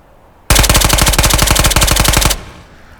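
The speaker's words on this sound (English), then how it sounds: "Let's shoot that vest. Let's see if that vest will stop these rounds." Rapid automatic gunfire from the video game Ghosts of Tabor, shooting at a vest: a loud, close burst of densely spaced shots lasting about two seconds, then a quick drop to quiet room tone.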